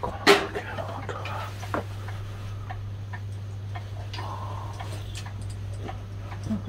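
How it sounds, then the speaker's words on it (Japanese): A clock ticking in a station-front diner in Japan, with faint, steady regular ticks sitting under a constant background hum and scattered room noise. "この時計の音が"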